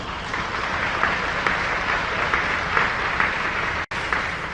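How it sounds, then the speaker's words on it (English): Steady applause from a crowd at a sports TV awards ceremony, dense clapping sustained throughout, with a brief cut near the end before it continues. "Let's give a hand for our guest speaker, Mr. Dewey McDonald."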